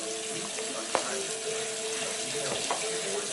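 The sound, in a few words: warm water poured into flour for tortilla dough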